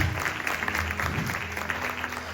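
A church congregation applauds during an evening sermon, a steady, dense wash of clapping that holds at an even level for the full stretch with no voices on top.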